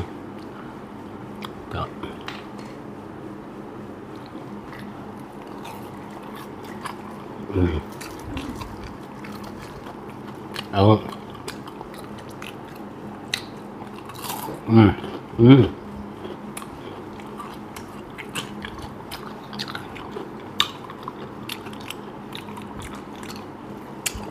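Crispy fried banana fritters coated in rice flour are crunched in a few short bites scattered through a quiet stretch, faint and close, with occasional speech around them.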